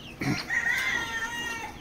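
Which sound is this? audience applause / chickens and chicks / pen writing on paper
chickens and chicks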